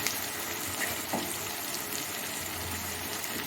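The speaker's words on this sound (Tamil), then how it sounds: "இப்போ வந்து நம்ம வந்து மசிச்சு வச்சுக்கிற அந்த கருணக்கிழங்கு இதில் போட்டுடலாம்." Mashed elephant foot yam goes into a pan of frying onions for Chettinad karunaikilangu masiyal, giving a steady, close sizzle and bubbling hiss with a soft thud and stirring scrape, no one speaking.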